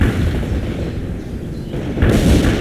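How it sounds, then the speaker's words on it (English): Dense, loud gunfire and booming blasts roll on continuously in a military video game battle against insurgents, swelling into a heavier burst near the end. "They are engaging us! We're under fire!"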